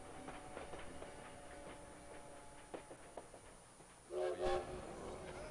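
Train sounds at the Paris depot in the video game Valiant Hearts: The Great War, a steady rail rumble with faint clicks, then a brief, louder horn-like tone near the end. No one speaks.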